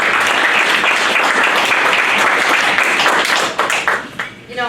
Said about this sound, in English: please give another round of applause to Kyante and Addie